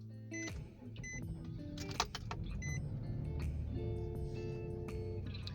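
A Nissan Murano with a rough idle and crankshaft sensor fault is started with the ignition key: a short crank followed by the engine catching and settling into a steady close idle.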